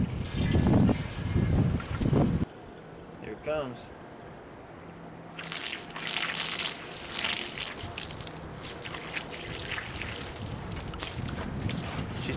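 Water running into an empty propane tank, a loud gushing pour that stops, then a quieter trickle and a renewed rushing flow alongside brief speech.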